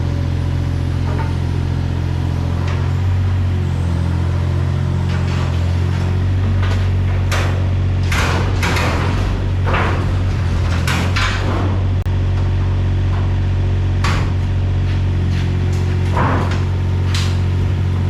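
A garage roller door comes down, its roller stuck on one side, giving a loud, continuous low rumble broken by repeated rattling clanks and scraping knocks, close by with no talking.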